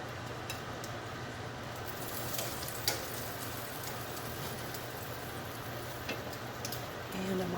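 Pork chops fry in a garlic mushroom sauce with a steady, close sizzle and scattered small pops and ticks throughout.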